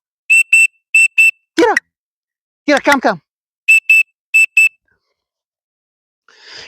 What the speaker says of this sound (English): the whistle is new to her